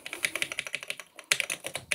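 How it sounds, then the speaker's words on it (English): Rapid typing on the mechanical keyboard of a Texas Instruments data terminal, clicky keystrokes in a quick irregular run with a short pause midway, close and fairly loud. "good old mechanical keyboard."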